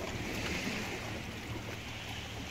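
Sea water washing against a jetty, a steady rushing roar of surf mixed with wind noise on the microphone, constant and fairly close, with no talk.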